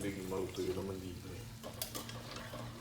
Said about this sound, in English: I'm having the maid put the pasta as I mix this